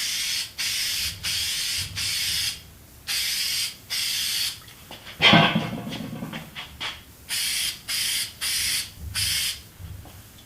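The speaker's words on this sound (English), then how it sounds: "I'm going to go ahead and spray it on here" A can of spray adhesive sprays in a series of short hissing bursts onto a Yamaha XJ650 motorcycle seat, evenly spaced, with a clatter in the middle.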